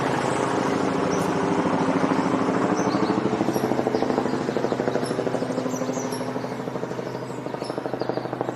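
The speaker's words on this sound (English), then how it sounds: "I don't know why the helicopter's flying around." A helicopter flying overhead sends a steady, pulsing rotor throb and engine drone that swells and then slowly fades, with faint bird chirps scattered above it.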